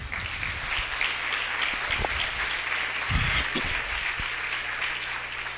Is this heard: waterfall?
no